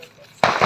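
A Diwali firecracker bursts at night with a sudden loud bang partway through, followed by crackling noise, after a quieter stretch of faint background sound.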